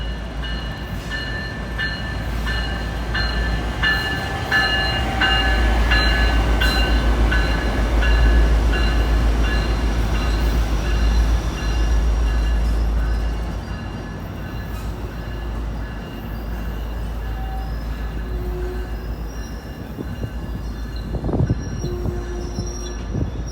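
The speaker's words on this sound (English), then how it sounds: "here comes Amtrak train 733" An Amtrak Capitol Corridor train rolls past at street level in Oakland's Jack London Square, a loud sustained rumble with faint wheel squeal and tonal hum. No one speaks.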